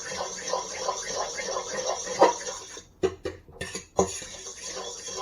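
Yeast, brown sugar and water being stirred together in a bowl for homemade bread, with a spoon clinking and scraping steadily against the sides, close and fairly loud, ending in a few sharper knocks.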